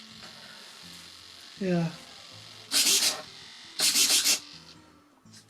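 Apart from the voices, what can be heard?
chattering servos in Durafly Brewster F2A Buffalo RC plane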